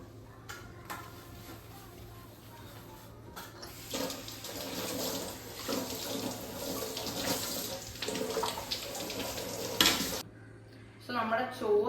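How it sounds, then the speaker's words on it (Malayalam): Plates are washed under a running kitchen tap, a steady rushing stream of water lasting several seconds, starting and stopping abruptly, fairly close and without talking. "ഇനി നമ്മൾ പ്ലേറ്റ്സ് ഇതെല്ലാം വാഷ് ചെയ്ത് ക്ലിയർ ആക്കാം."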